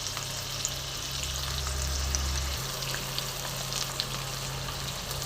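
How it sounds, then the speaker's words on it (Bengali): Rohu fish pieces frying in a pan over a medium gas flame give a continuous close sizzle with faint crackles and a steady low hum underneath, and no one speaks. "দেখো মাছগুলো ভাজা হচ্ছে"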